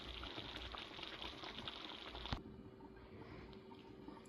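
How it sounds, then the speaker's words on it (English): Hamburger and tomato gravy simmers in a covered pan, a steady soft bubbling hiss with a brief clank partway through as the lid settles, then quieter continued bubbling. "I'm going to put the top on it and let it simmer"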